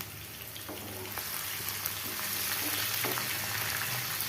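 Onion, green chili and curry leaves fry in hot oil with a steady, close crackling sizzle, brief stirring clatters breaking through now and then, no voices.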